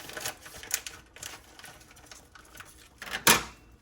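Kitchen scissors snip through a lobster tail in a few sharp, crisp clicks and crunches, the loudest cut near the end, close up and otherwise quiet.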